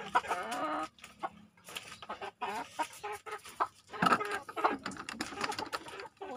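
Free-range chickens clucking close by in a garden, irregular bursts of clucks and squawks, moderately loud, with some scratching noises in between.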